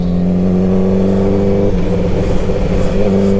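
A Honda Repsol sport motorcycle engine idles and revs up close, a steady loud mechanical drone with rising throttle blips, no voices over it.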